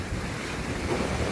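Wind buffets the microphone on a beach, a loud, rumbling roar blended with the wash of breaking waves, steady and unbroken.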